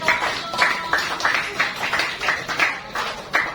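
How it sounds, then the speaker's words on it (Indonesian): A group claps after a presentation in a classroom setting, a short burst of uneven hand claps close by with a rhythmic, slightly scattered beat. "Tepuk tangan dari presentasi."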